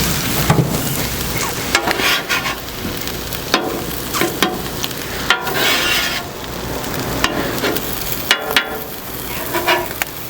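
Keto corned beef hash fries in a pan, a steady close sizzle broken by repeated clacks and scrapes of a utensil against the pan, with no voices.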